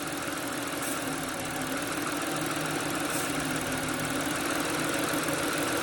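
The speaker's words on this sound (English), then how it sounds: "I'm going to spray it right next to this injector right here, and you're going to hear the engine change RPM." A Ford Edge engine idles with a steady, fairly quiet mechanical hum and faint ticking, its speed shifting slightly as a leaking fuel injector seal is sprayed; no one speaks.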